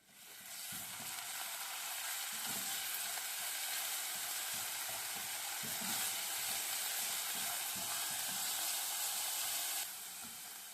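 Garlic frying in a little oil in a pan before rice is added, a steady loud sizzle with soft stirring scrapes throughout, easing off just before the end.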